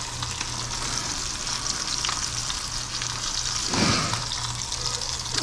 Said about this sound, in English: So we definitely got some good searing without a doubt